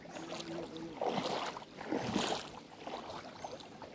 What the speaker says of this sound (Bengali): বড় বড় নৌকা দিয়ে চলে যাচ্ছে